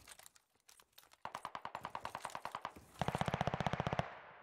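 Video game gunfire crackles in fast automatic bursts, a sparse patter first, then a steady rattling volley and a louder, denser burst that cuts off abruptly, with no voices over it.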